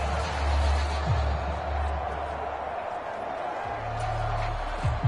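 A stadium home crowd in Madden NFL 24, during a 49ers versus Eagles game, gives a steady broad roar of cheering, with low rumbling bursts rising over it at moments.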